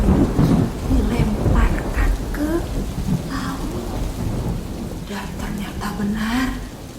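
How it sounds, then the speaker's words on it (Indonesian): A thunderstorm sound effect plays, with loud rolling thunder over steady rain, while a voice talks over parts of it. "badai itu terjadi karena Tuhan marah sama Nabi Yunus"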